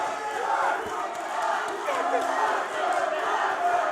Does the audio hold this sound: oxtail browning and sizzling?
no